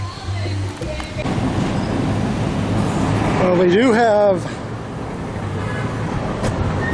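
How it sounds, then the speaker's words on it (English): A lone freight locomotive with no cars rolls through Limon, Costa Rica, a low rumbling drone with a rising, wavering horn-like tone midway, while someone talks over it nearby. "a single freight railroad coming through without any cars"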